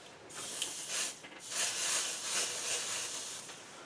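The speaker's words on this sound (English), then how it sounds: "And I'm going to use some pixie spray on the back. You just lightly give that a spray" Short hissing bursts of an aerosol can of spray adhesive, several quick puffs blending into a steady spray, fairly close and with no talking.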